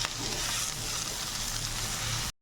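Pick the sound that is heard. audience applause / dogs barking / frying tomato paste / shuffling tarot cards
frying tomato paste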